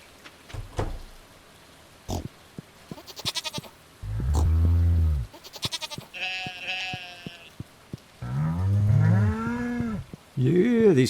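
Cartoonish cattle moos from the farm in the video game Stardew Valley, several separate calls of varied length with short pauses between them, clear and close, with no talking.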